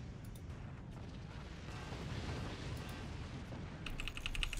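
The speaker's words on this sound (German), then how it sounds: "Ich habe schon wieder die andere blöde Nuke zuerst geschossen" A nuke detonates in the video game Forts with a sustained, rumbling blast that swells and lingers. Sharp crackles and pops come through near the start and again toward the end, with no talk.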